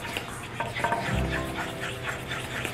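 Banana bread batter being stirred together in a bowl, the dry and wet ingredients combined in a steady scraping, rubbing rhythm at close range, without any speech.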